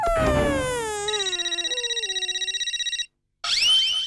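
A phone ringtone for an incoming call plays as a loud electronic melody of falling and pulsing tones, breaks off briefly, then resumes, heard alone with no talk.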